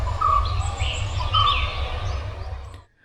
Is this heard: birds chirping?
yes